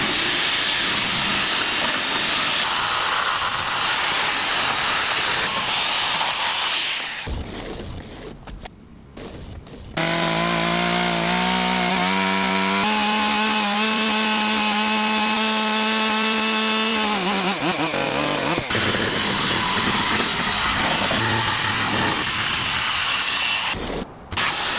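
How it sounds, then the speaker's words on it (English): A circular saw trims the edges of wooden boards at a log cabin build in Alaska, with a loud, sustained whine cutting through wood, a brief drop-off as it spins down, then another cut. "Using a circular saw, the edges are trimmed with surgical precision for a clean, professional finish."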